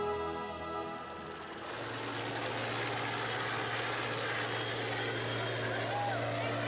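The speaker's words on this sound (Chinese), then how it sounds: "我们登上直升机，俯瞰这一片浩瀚的珊瑚海。" A helicopter flies over the Great Barrier Reef, its engine and rotor making a steady droning hum with tonal whine; continuous and fairly close, with a voice talking over it.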